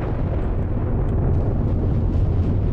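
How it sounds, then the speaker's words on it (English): Explosion effects from the Roguetech video game, a dense, continuous rumbling roar of blasts heard loud and alone, with no voice over it. "those explosion effects are so nice"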